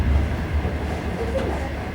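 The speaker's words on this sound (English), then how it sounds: "Okay, the train is accelerating." Overnight sleeper train running between Shijiazhuang and Shanghai as it picks up speed, heard from inside the carriage as a steady low rumble and drone with faint rail clatter, constant and fairly loud.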